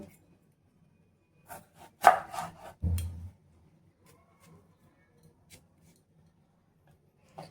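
A knife slices a tomato into thin strips on a board, giving a few sharp cutting taps and a heavier thud in the middle, then long quiet gaps with faint knocks.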